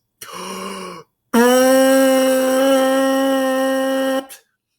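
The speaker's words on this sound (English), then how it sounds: "That's how a buzzing sound is made." Two buzzing lip tones for a euphonium embouchure, a short one then a longer steady one, loud and close, with a rich reedy brass-like quality.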